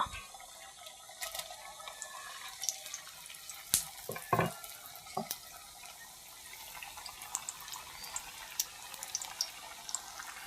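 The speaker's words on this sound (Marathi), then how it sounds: "आता आपण कापण्या तळून घेऊया." Wheat-flour kapnya deep-fry in very hot oil, a soft continuous bubbling hiss with scattered crackles and pops, plus a few louder clinks and splashes as pieces are dropped in or moved.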